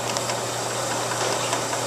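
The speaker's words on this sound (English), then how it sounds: "So now we go ahead and run the folder" A Bourg booklet maker's folder runs with a steady, loud mechanical hum and constant broadband rumble, continuous and close throughout.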